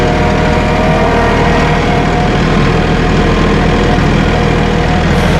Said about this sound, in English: You can raise the RPMs up. It's going to speed the tractor up.